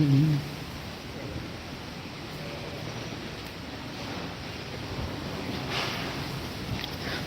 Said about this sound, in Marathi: अक्षरशः एवढी हवा सुटलेली आहे